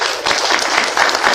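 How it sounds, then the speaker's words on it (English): Brief burst of close, full audience applause at a cannabis economy panel, dense clapping holding steady through the moment. "Can we give her a round of applause?"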